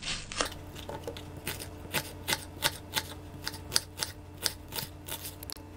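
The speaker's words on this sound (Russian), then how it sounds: "Лук режем мелкими кубиками." Knife chopping onion into small cubes on a cutting board: a near, evenly spaced series of about a dozen crisp chops, loud and clear with no voices.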